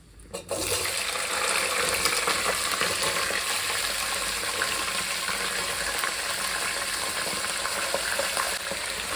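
Eggplant pieces dropped into hot oil for a quick fry during vangi bath preparation, giving a loud, steady, close sizzle that starts abruptly and continues without a break.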